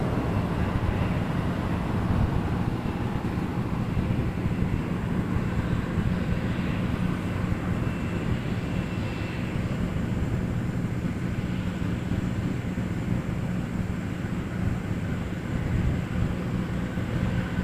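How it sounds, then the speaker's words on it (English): Cessna Citation business jet at Toronto Pearson airport in freezing weather, a steady broad roar of engine and wind noise that holds at a constant loudness throughout, with no talk. "That's a Cessna Citation coming from Miami."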